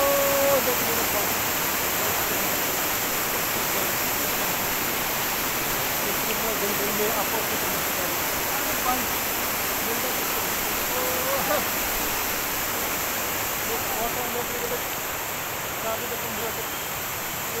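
River rushing through a hilly village near the Assam–Bhutan border, a loud, steady broadband roar of flowing water filling the whole stretch without pause.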